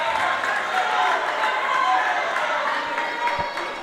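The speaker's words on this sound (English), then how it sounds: "The Mamaroneck crowd very happy with that one" Crowd noise in a high school boys basketball gym, Scarsdale at Mamaroneck, a steady wash of cheering and chatter that carries on throughout, slowly easing toward the end, with a broadcaster's voice over it.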